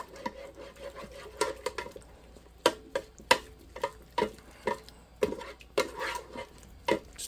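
Cornstarch mixture stirred into a simmering honey garlic glaze, with a spoon knocking and scraping the pot in irregular clicks and taps over a soft bubbling sizzle.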